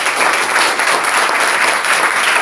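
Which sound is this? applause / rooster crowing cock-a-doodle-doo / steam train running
applause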